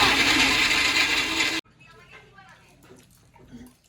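A mixer grinder whirs loudly as it grinds ginger with water and salt, a dense continuous roar that cuts off abruptly partway, followed by quiet room noise and faint talking.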